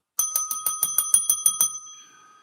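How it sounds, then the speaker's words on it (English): A bright bell rings in a quick train of about ten even strikes, then a short ringing tail fades out. "Bring on the bell."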